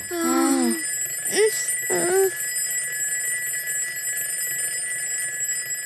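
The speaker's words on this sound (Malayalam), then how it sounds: "നമ്മള് 4 പേരും അല്ലെങ്കിൽ പിന്നെ ആരാ അലാറം വെച്ചത്?" An alarm clock goes off at 4 a.m. with a few quick, warbling electronic chirps in the first two seconds. After that only a faint, steady high hum remains.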